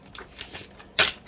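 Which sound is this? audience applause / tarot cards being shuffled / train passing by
tarot cards being shuffled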